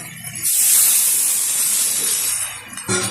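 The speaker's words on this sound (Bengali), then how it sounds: "দিয়ে দিচ্ছি পরিমাণ মতো জল" Water poured into a pan of spiced taro curry, a steady loud hiss and sizzle as it hits the hot pan, rising sharply and then slowly fading.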